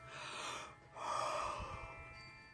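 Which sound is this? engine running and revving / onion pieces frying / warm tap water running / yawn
yawn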